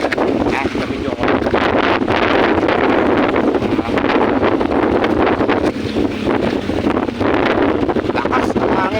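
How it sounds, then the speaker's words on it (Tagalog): Strong typhoon wind roars continuously and loudly across the microphone by a river in Gapan City, a dense buffeting rush with no letup, and a voice is partly buried beneath it. "Lakas ng hangin pa rin, no?"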